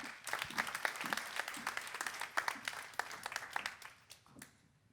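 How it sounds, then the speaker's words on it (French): Audience applause at a public meeting, a moderately sized crowd clapping irregularly and fading toward the end. "On l'applaudit."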